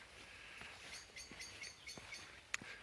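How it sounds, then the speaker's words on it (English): A blackbird's alarm call comes as a few faint, distant sharp chinks and chirps, spaced out over quiet park ambience. "there's a blackbird alarm call"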